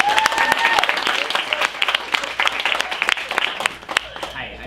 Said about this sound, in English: So let's give Kale and Stephen a round of applause.